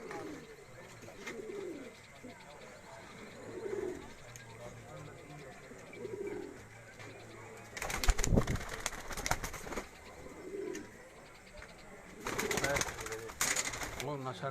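Sialkoti pearl-spotted pigeons at a rural loft cooing in soft, repeated low coos, moderately near, with bursts of wing flapping and rustling partway through and someone talking over them.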